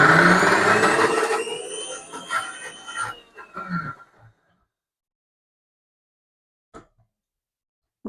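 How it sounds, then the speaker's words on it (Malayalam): A grinder blends cooked green chilies and other ingredients without water, its motor whirring loudly, then winding down over a few seconds into near silence broken by a couple of faint knocks. "വെള്ളം ഒഴിക്കാതെ തന്നെ നേരിട്ട് തന്നെ അരച്ചെടുക്കുന്നത്"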